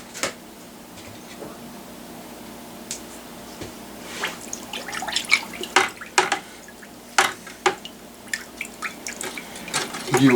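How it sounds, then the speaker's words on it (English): Half a pound of corn sugar is stirred into cactus tuna mead in a container, giving liquid swishes, drips and light clinks that grow busier and closer as the stirring continues. "That was half a pound of corn sugar. Now I got to stir this up."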